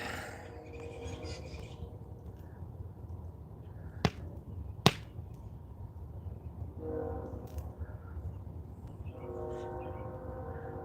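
A train rumbles steadily throughout, with two sharp metallic bangs near the middle and faint tonal horn-like hums drifting in and out.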